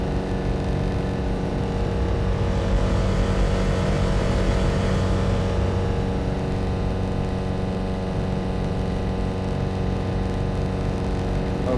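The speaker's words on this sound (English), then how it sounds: "our pulse engine is messing up" Malfunctioning pulse engine of a spaceship in the video game No Man's Sky, a steady loud droning engine hum with a rough, swelling surge partway through, continuous with no talking.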